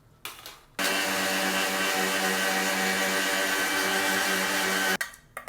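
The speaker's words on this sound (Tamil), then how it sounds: "எல்லாத்தையும் சேர்த்து அரைச்சிட்டு வந்துடலாம்" A mixer grinder pulverises roasted ingredients into powder with a loud, steady high-pitched whir that starts abruptly, runs for about four seconds and cuts off sharply, with faint handling clatter before and after.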